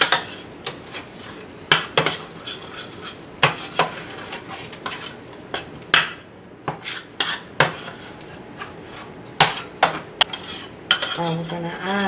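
Ginger, garlic and other ingredients are mixed in a bowl with a utensil, producing irregular clinks, scrapes and knocks against the bowl, close and fairly loud, with no one speaking.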